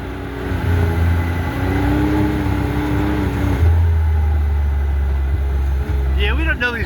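Car cruising on unfamiliar roads in Hawaii, a steady low engine and road hum from inside the cabin while people talk.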